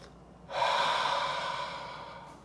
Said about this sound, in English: I breathe through the nose, I exhale through the mouth.